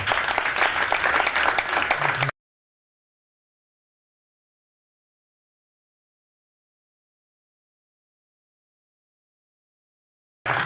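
A church congregation applauding to acclaim Jesus at Sister Henriette Fwamba's birthday celebration, a loud, dense burst of clapping lasting about two seconds, then an abrupt cut to silence before a brief return of clapping at the end.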